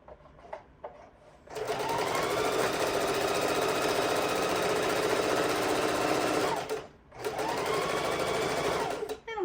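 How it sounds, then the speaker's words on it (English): A Singer Heavy Duty sewing machine stitches a Christmas stocking through multiple fabric layers, running in a loud, steady mechanical whir for several seconds, pausing briefly, then starting again. "I'm on the Singer Heavy Duty Sewing Machine as I'm going through multiple layers"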